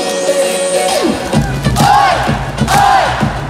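Lotte Giants baseball crowd at a Lotte vs LG game shouting in unison, two sharp chant bursts rising over a loud, roaring stadium crowd and rhythmic noise.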